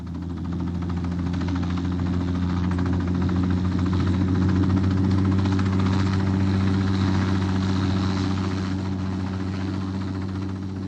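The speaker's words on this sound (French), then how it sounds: "un hélicoptère conduit les fugitifs à Monaco" Helicopter engine running steadily, a continuous low droning hum with strong throbbing tones, loud and close throughout with no talk.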